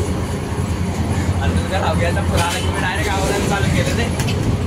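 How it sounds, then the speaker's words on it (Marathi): Bus engine drone and road rumble inside a moving bus, loud and continuous with a low steady roar, while people talk over it. "आवाज बघा बसचा।"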